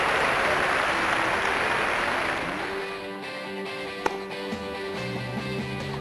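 A tennis crowd at match point, a loud wash of applause and cheering that slowly fades while a voice carries on over it.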